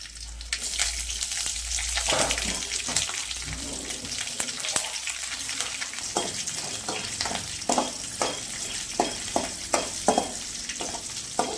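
Onion frying in a pan with chana dal, urad dal and mustard seeds in a home Indian kitchen: a steady sizzle with scraping stirs and clicks of a spatula against the pan.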